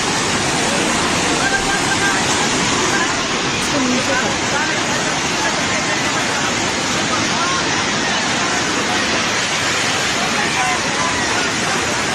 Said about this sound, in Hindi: नुवाकोट में त्रिशूली नदी का उफान देखिए जरा